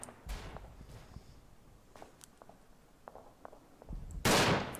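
Rifle shots from the World War I shooter Verdun, a few sharp separate reports spread across the moment, ending in one loud close blast, with no talking.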